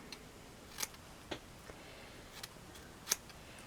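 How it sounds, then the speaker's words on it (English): A few quiet, sharp scissor snips cut through ribbon while folding a beaded ribbon rose, spaced out irregularly over near silence with no talking. "and then cut that."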